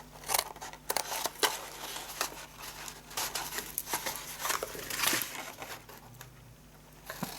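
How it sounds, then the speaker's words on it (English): Paper being cut with scissors while making a gift box, a series of close, crisp snips and slices in an irregular rhythm with light paper rustling between cuts. "So I suppose we're cutting off about 1 inch."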